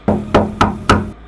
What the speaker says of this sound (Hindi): उसने जाकर उस कमरे का दरवाजा खटखटाया